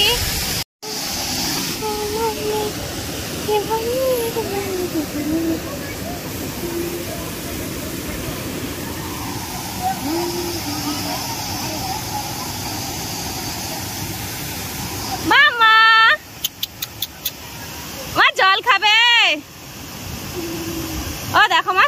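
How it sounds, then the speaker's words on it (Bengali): The steady, broad roaring rush of Usri Waterfalls in Jharkhand, India fills the scene, with a few short higher-pitched voice-like sounds breaking in near the end. "দেখো ঝর্ণার আওয়াজটা কিভাবে হচ্ছে দেখতে পেয়েছো।"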